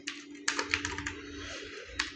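Typing on a computer keyboard while entering text in design software, with a rapid cluster of close, crisp keystrokes, a short pause, then one more tap, with no talk.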